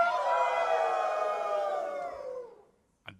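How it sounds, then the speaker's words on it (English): A live convention audience at PAX West howls together like wolves, a loud sustained chorus of many voices that swells and then slowly fades out over about two and a half seconds, followed by a brief quiet gap and a short burst. "So everyone please raise your hands and do a big howl."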